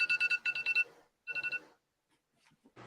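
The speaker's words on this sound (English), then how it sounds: "Man, you got some random like alarms on your phone." Phone alarm goes off in short, bright, beeping bursts, two rapid groups of tones followed by a pause and a faint trailing sound, close and fairly clear.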